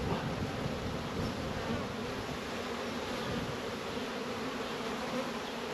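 Honeybees at a beehive fill the air with a dense, continuous buzzing hum, close and steady with no voices.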